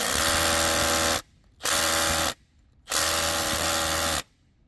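A power drill runs in three loud bursts of steady high whine, each about a second long, with short near-silent gaps between them, during a 3-inch PVC water main repair.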